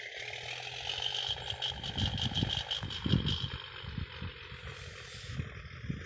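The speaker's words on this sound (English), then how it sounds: "But first, let's rev that engine up." A Pierce Enforcer fire truck engine in the Fire Truck Simulator video game revs, with a steady low rumble swelling into a few louder surges around the middle before settling back, heard alone at moderate level.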